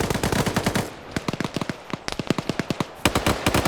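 An M240 Golf machine gun fires in a video game: a rapid burst, then a series of sharp, separated shots, then another dense burst, all loud and close with no talking.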